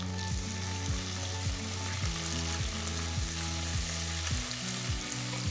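Garlic, slit green chillies and curry leaves frying in hot oil, a steady close sizzle broken by regular scraping strokes of a spoon stirring the pan, with no talking.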